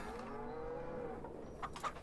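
Cattle in the Farming Simulator video game give a single drawn-out moo that slides in pitch, fairly quiet, with a couple of short clicks near the end.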